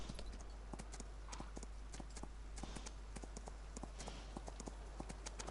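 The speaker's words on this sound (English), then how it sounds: "The horse wouldn't sound like that if we were on grass." Steady clip-clop of horse hooves on a hard, non-grass surface in Farming Simulator 19, an even walking rhythm of sharp hoofbeats over a low constant hum.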